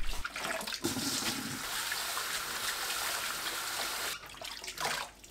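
Bellflower root is rinsed in water, with close splashing and sloshing that runs steadily for several seconds, then breaks into a few shorter swishes.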